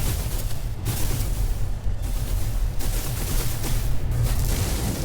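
Repeated firing of the infra-knife weapon in No Man's Sky, heard as a continuous loud barrage of booming, crackling blasts with brief dips between volleys and no talking.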